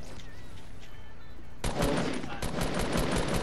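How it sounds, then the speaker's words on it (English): Rapid automatic gunfire in a video game, a dense burst of loud shots starting abruptly partway through, preceded by quieter game ambience. "I hear more shots"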